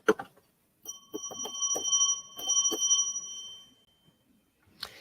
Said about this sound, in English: Oh, let me get out my little bell.